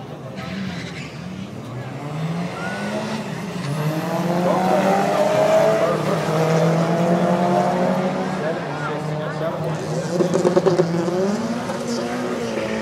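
Race cars roaring around a dirt track, engines swelling as they pass and fading again, with a brief tire skid near the end. The engine noise is loud and continuous, and faint crowd or announcer voices sit underneath.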